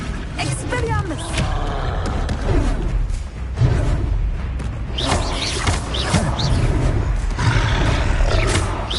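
A troll roars amid a chaotic magic battle in Hogwarts Legacy, deep growling bellows and heavy thuds continuing loudly throughout, with voices and spell effects layered over the din.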